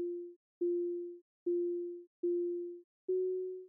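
Five clean, identical electronic tones from a music app pulse at a steady rhythm, each a short sustained beep of a chord note separated by brief silences.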